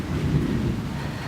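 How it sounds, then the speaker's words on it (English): Thunder rumbles low and steady from a storm over a mountain, with rain hiss mixed in, a continuous dull roar with no voices. "But we are actually having a thunderstorm, a no-lie thunderstorm."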